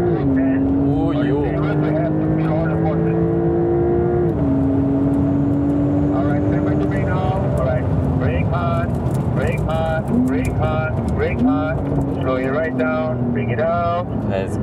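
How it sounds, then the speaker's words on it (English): A Porsche sports car is driven hard on a track, its engine note loud and continuous, rising and dropping in pitch through gear changes, with voices talking over it. "Such an experience to drive these Porsches."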